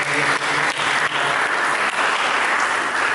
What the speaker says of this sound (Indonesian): Berikan tepuk tangan yang mulia.